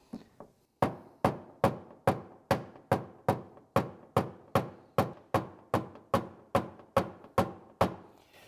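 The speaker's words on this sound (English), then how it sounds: "grab my hammer and knock down" A hammer knocks a dent down in a Kia fender panel, striking about sixteen sharp metallic blows at a steady, even rhythm, each ringing briefly before the next, close and alone.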